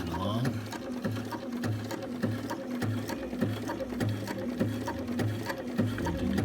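A sewing machine set on a jig stitches paraglider lines with a fast, even mechanical whir and rhythmic needle thumps, while a person talks over the running machine.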